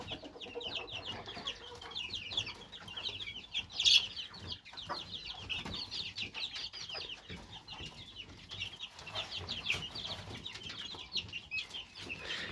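Chickens clucking and chattering steadily in a coop, several birds at once, with a brief louder squawk near the start; no talking.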